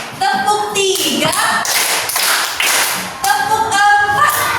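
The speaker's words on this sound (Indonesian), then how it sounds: "Tepuk satu. Tepuk dua. Tepuk tiga." Pupils in an elementary school classroom clap together in repeated bursts on a teacher's counts, with the teacher's voice between the claps.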